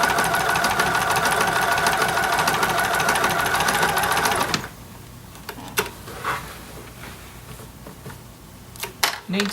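A sewing machine stitching one continuous seam around a baby quilt runs loud and rapid for about four seconds, then stops, leaving quiet handling clicks and taps.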